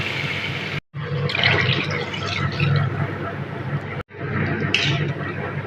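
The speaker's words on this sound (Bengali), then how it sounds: "পরিমাণ মতো জল দিয়ে দিলাম।" Water poured into a pan of vegetable pulao rice with capsicum, carrot and potato, a steady gushing splash running most of the way with two brief breaks, while a voice talks over it.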